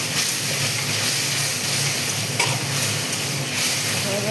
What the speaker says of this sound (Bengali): একটু নাড়লাম, কষতে থাকলাম।